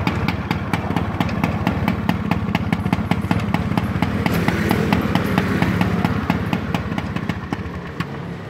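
Vintage Honda Shadow 90cc motorcycle engine starting and then idling, a loud close rapid regular putter with mechanical clatter, running steadily without any talk.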